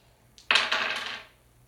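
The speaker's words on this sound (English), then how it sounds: "so you gotta roll 2 dice" Two dice are rolled during a board game, giving a quick close clatter of a couple of tumbling hits on a hard surface, brief and alone.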